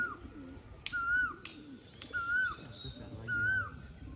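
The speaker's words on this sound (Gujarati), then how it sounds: "તે મોજા વાળું કબૂતર" Feather-footed pigeons coo softly beneath people talking, while higher bird chirps repeat several times nearby.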